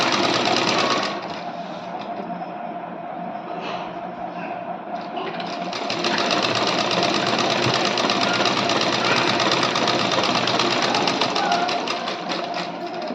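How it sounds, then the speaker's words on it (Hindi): Sewing machine running steadily while stitching a blouse with a single straight seam for a fitting check, a continuous close whirring hum that slows briefly in the middle and then speeds back up, with a voice talking over it. "अभी मैं सिंगल सिलाई मार रही हूँ क्योंकि मैं इसको पहनकर देखूंगी फिटिंग ठीक है या नहीं।"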